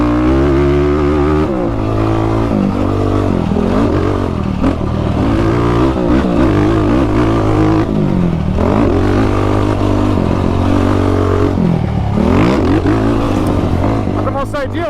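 Motocross bike on Obor Advent tires ridden over a dirt track with jumps and berms, its engine revving loud and steady throughout, rising and falling through gears with a rough clattering edge.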